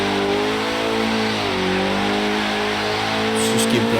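A Porsche 944 Turbo engine drones steadily at speed in Forza Horizon 3, its pitch wavering slightly as it shifts, with a brief scrape or tire noise near the end.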